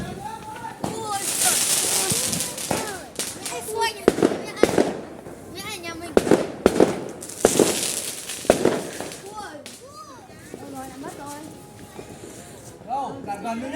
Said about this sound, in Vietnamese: mẫu pháo năm nay đẹp nhỉ